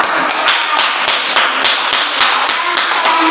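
Classroom applause for a student group during a teacher training exam, steady rhythmic hand clapping from a small group, close and continuous throughout.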